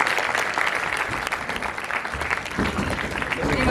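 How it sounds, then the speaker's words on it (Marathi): An audience at the Marathi Indie Music Awards ceremony breaks into loud, sustained applause, a dense wash of clapping that stays steady throughout with no speech over it. "एकदा जोरदार टाळ्या."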